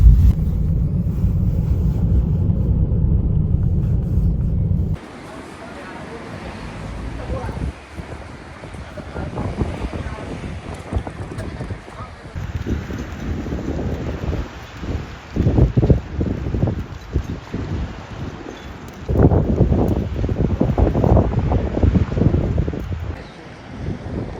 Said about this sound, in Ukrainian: Вітер сьогодні такий конкретний